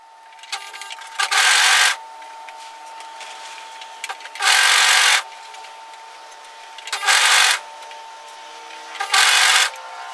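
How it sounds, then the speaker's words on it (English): An overlocker serges a woven cape seam starting from the shoulder, sounding in four separate loud bursts of a few seconds each with quiet gaps between them, close up and without speech. "I'm going to start overlocking this from a shoulder."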